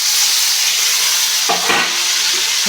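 Tomatoes frying in a pan for an egg tomato curry hiss loudly and continuously, with a brief scrape and clatter of stirring near the middle, close up and without speech.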